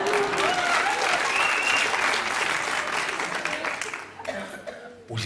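Dense, loud audience applause at a comedy stand-up show, sustained for about four seconds before thinning out into scattered claps and chuckles near the end.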